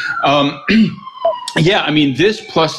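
Emergency vehicle sirens sound outside, a steady wailing tone running faintly beneath someone talking throughout.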